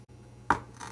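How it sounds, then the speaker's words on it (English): One crisp knife cut through fresh ginger root on a cutting board: a short, close thunk with a faint follow-up scrape in a quiet kitchen. "let's see if I remember how to cut ginger root."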